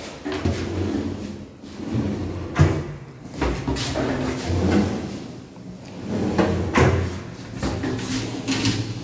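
Modular kitchen drawers are opened and closed several times in an irregular rhythm, each one sliding with a rolling rumble and ending in a soft thud, close by and fairly loud.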